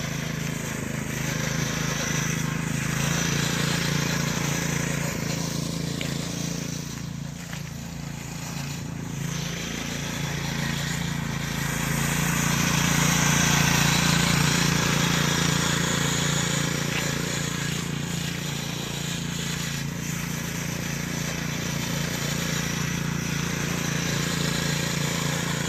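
A small go-kart engine governed down to low speed runs steadily while a child rides, its drone holding a constant, moderate level, slightly rising and falling as the kart moves about at a distance.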